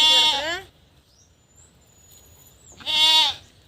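Goat bleating twice, a loud harmonic bleat at the start and another near the end, with quiet farmyard background between; a newly kidded goat still nursing its young.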